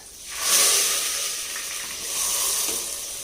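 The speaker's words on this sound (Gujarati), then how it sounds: "જીરું નાખ્યું અને હિંગ નાખી આમાં લહણ ને ડુંગળી છે સુધારેલ વઘાર મારે દીધો લીમડો નાખી" Cumin, asafoetida, garlic, onion and curry leaves hit hot oil for a village-style tempering, bursting into a loud hissing sizzle that swells, eases slightly, then surges again, with no talking.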